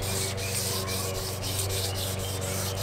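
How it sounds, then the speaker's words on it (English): 600 grit sandpaper rubbed by hand over an oxidized fiberglass boat surface, a continuous close scratchy rasp with regular back-and-forth strokes, no talking. "and just rub it."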